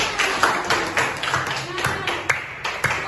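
Children in a classroom clap for a classmate who answered correctly, with sharp claps landing in a quick, fairly even rhythm about twice a second while voices talk over them.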